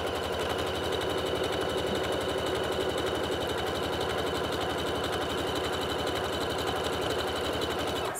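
A home sewing machine stitches a 3-step zigzag on scrap fabric, a steady, fast, even mechanical whirr with a rapid needle rhythm running close and loud for the whole stretch.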